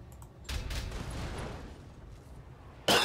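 Mech autocannon fire in the BATTLETECH video game, a dense rumbling burst of shots followed by a sharp loud report near the end, with no talking.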